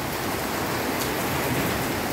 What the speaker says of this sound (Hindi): बारिश बहुत शदीद हो रही है